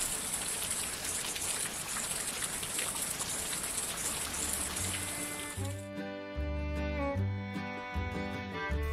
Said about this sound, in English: we got a nice rain shower.